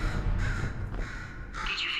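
A bird in the video game Portal 2 gives a few harsh caws over a low rumbling background, close and fairly loud with no talking.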